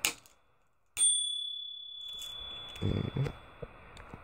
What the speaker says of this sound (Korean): 오랜 시간 누르면 삐 소리와 함께 다시 꺼지게 되고